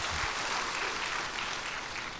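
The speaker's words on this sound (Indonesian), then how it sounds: "Beri tepuk tangan yang meriah buat Tuhan." A congregation claps for God during a church sermon, a faint, steady wash of many hands applauding at a distance, with no voices over it for a couple of seconds.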